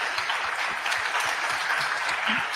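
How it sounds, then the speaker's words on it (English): Steady applause from an audience, a dense wash of clapping hands throughout with no voices standing out. "Yes, please clap to that."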